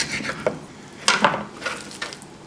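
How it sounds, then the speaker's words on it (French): Knife cutting a shelled lobster tail into bite-size pieces on a board, a few distinct taps and slicing clacks spaced irregularly, close and fairly loud. "vous allez la couper en deux, dans le sens de la longueur, et vous allez faire des morceaux de la taille d'une bouchée"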